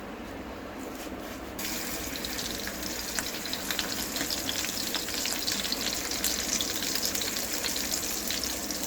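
Masala-stuffed chillies fry in oil with a loud, steady hiss that swells after a quieter opening second and carries crackling pops throughout, with no speech.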